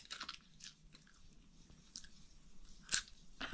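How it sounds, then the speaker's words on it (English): Crisp, freeze-dried spinach chips being bitten and crunched, heard as several quiet, sharp crackles spread over a few seconds, with one louder snap near the end and no talking. "I'm not afraid to eat a spinach chip."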